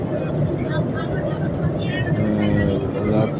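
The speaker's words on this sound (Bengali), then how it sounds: "মেঘের উপর দিয়ে বিমান চলতেছে।" US-Bangla Airlines airliner cruising above the clouds at night, a steady broadband cabin roar of engines and airflow with voices talking over it throughout.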